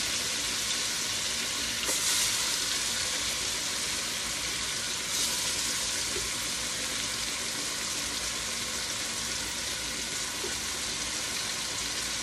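Chicken leg quarters brown in a hot pot, giving a steady, loud sizzle and crackle of frying fat that runs unbroken throughout, with a few brief stirring bumps and no talking.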